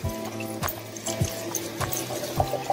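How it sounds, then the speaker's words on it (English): Water runs over a store-bought side of salmon as it is rinsed by hand to wash off scales, a steady close splashing flow with a few sharper drips and handling knocks, no voices. "So Just give it a nice rinse."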